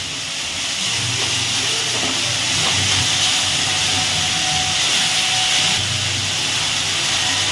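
Sliced beetroot sautéing in a pan gives a loud, continuous hissing sizzle with faint stirring scrapes and no voices.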